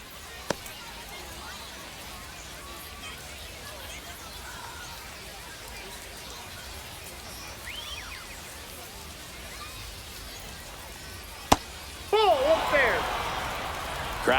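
A baseball stadium crowd in MLB The Show 25 hums as a steady murmur of babble through a ninth-inning at-bat, with a sharp click and a louder swell of crowd noise near the end.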